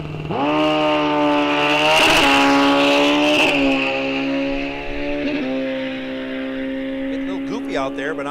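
A 1978 Kawasaki motorcycle racing down a drag strip, its loud engine rising steadily in pitch through gear changes as it pulls away and fades slightly, with an announcer's voice over it.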